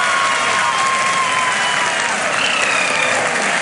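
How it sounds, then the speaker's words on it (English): Applause and crowd noise fill a room as the Chandrayaan-3 lander module touches down, a dense, continuous roar of clapping with faint voices mixed in. "People are applauding."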